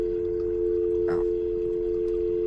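A steady, unbroken telephone dial tone hums loud and close from a phone in the horror video game Fears to Fathom, with a brief soft rustle partway through.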